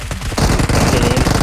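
Rapid automatic gunfire rattles in PUBG Mobile, a loud, dense burst of shots that starts after a brief lead-in and keeps hammering without pause.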